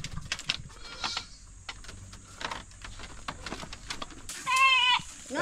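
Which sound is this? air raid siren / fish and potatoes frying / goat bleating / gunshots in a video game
goat bleating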